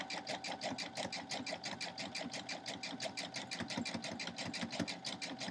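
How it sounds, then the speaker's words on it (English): A sewing machine running a zigzag back stitch while quilting a block: a quick, even run of mechanical pulses with a steady whirring hum beneath, close and fairly quiet, with no pauses. "I'm just going to make a zigzag stitch right here and back stitch it to lock it"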